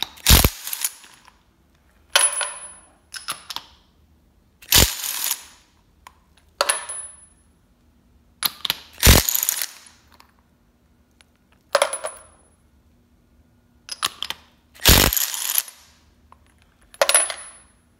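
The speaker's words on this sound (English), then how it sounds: "I want to pull these plugs out" Spark plugs come out of a Pontiac Trophy 4 cylinder engine. Sharp metallic clanks and ratcheting bursts repeat at irregular intervals, close and loud, with quiet gaps between.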